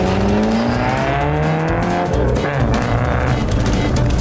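A Titan McQueen car drives in the Minecraft video game, its engine roaring loud and close throughout, with tire squeals and revving rising over a steady motor drone.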